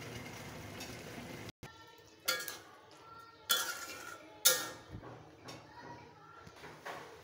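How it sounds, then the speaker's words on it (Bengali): A cooking pot of komli greens and dried taki fish curry is lifted off the stove, giving three or four sharp metallic clanks and scrapes spaced a second or so apart, close by in a quiet kitchen. "এখন চুলা থেকে নামিয়ে নেব।"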